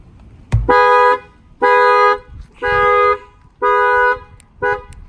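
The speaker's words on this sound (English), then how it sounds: "Okay, the alarm will ring." A 2018 Infiniti Q50 factory car alarm sounds loud and close: five evenly spaced horn-like blasts, each about a second long, with brief gaps between them and no voices.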